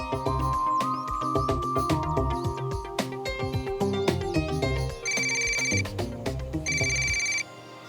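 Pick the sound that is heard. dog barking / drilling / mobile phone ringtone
mobile phone ringtone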